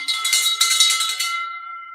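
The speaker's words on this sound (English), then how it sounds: "oh, you got to use this old tin bell" An old tin bell rung rapidly several times, bright clanging strikes ringing out and then decaying into a lingering metallic tone, loud and close with no talk.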